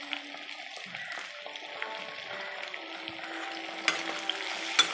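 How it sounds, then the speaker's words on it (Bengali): Green chilies and chopped ginger fry in a pan with a soft, steady sizzle and occasional scraping stirs, a few sharper clicks of a utensil near the end, no voices. "দিয়ে আবার আমি ভালো করে এটাকে ভেজে নেব।"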